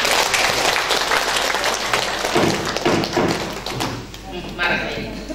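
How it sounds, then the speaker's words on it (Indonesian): Applause from women gathered at a university Dharma Wanita election meeting, clapping mixed with thumps and taps, fairly close and loud, with talk over it before fading. "Tepuk tangan dulu."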